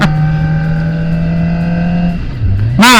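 A Kawasaki Ninja ZX25R motorcycle engine holds a loud, close, steady drone, dips briefly, then snaps into a sharp rising rev at the end.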